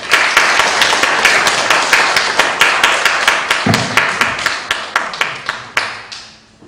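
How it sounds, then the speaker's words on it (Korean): Warm applause from a church congregation at a Sunday worship service, a steady crowd of hands clapping densely and evenly, then thinning to scattered last claps as it fades out. "다시 한번 우리 박인석 집사님에게 뜨거운 박수로 감사드리겠습니다."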